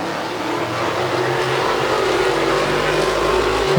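Modified race cars roar around a track during a heat race, a dense, loud engine drone with rising revs that swells as the pack passes close.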